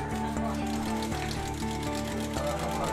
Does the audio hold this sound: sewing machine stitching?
yes